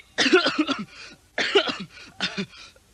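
A soldier coughs while standing in a marching formation, three hoarse bursts of coughing spaced about a second apart, close and fairly loud with no talk over them.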